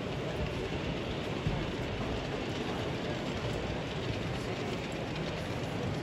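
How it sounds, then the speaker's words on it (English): A model IET train pulling away from a model railway station at a railway modelling exhibition, a continuous dense rumble and hiss that stays steady and loud, with no talk. "the IET departs Oak Road."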